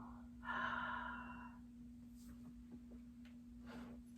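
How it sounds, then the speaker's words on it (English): Deep breathing during a guided meditation on releasing resistance, heard as one slow, fairly close inhale or exhale near the start followed by softer, fainter breaths over a steady low hum. "Breathing deep"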